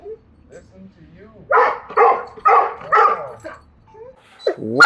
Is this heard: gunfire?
no